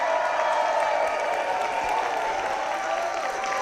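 Audience at a school production of Beauty and the Beast Jr. applauding and cheering loudly and steadily on cue before the show begins, a dense wash of clapping with no talk.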